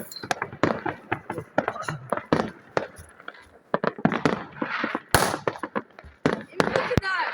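New Year firecrackers go off outside in a rapid run of sharp bangs and crackles, some near and loud, others fainter, while people talk between the blasts.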